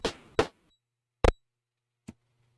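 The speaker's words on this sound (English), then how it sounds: "these are fire squares. If I step on them, everyone takes 50 damage. If I step on them with the volume on, it sounds like this." Fire-square damage effect from the Ultima III: Exodus video game: a few short, harsh retro noise bursts separated by silence, ending in a brief click and a faint low hum.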